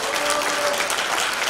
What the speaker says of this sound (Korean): 한번 박수 한번 쳐주시기 바랍니다.